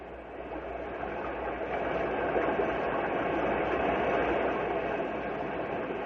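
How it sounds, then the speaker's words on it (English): A steady, broad roar of rushing water from a river swollen with spring thaw in full flow, loud and unbroken for several seconds with no voices. "This is the sound of a swollen river."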